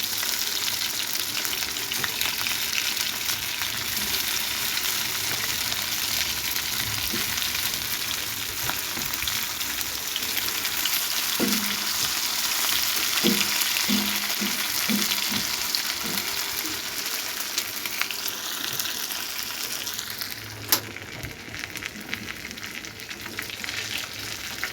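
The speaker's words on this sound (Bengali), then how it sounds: "কর্নফ্লাওয়ার আর ডিম দিয়ে আবার ভেজে নিচ্ছি।" Food coated in cornflour and egg frying in hot oil in a home kitchen, a steady close sizzle running throughout, with a few soft stirring clinks and scrapes partway through.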